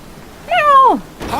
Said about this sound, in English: The cat's making calls too.